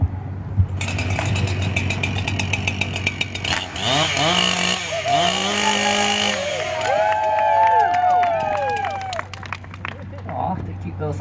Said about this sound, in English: Okay, warm up those saws then.